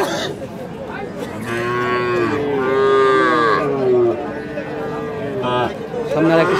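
Cattle moo repeatedly in long, drawn-out calls at a busy livestock market in Kakan Haat, Rajshahi, where a white calf is on sale, with crowd chatter and voices underneath.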